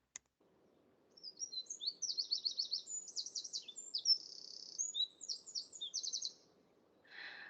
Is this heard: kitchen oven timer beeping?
no